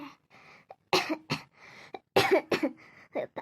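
A series of harsh, close coughs in uneven bursts, some sharp and some drawn out, with short pauses between them.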